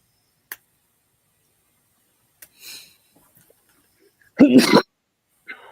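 A single loud, close sneeze bursts out of near silence, preceded by a few faint ticks and a soft breathy rustle.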